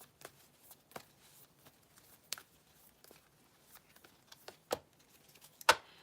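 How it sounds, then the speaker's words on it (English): Tarot cards being shuffled by hand, a series of soft irregular flicks and riffles, faint and close, with a sharper snap near the end. "we just shuffled this card up."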